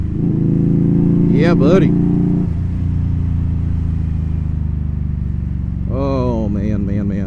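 A bobber motorcycle engine revs while riding, with a loud, close rumble that drops in pitch partway through, rising engine whines layered on top, and a brief spoken exclamation over it.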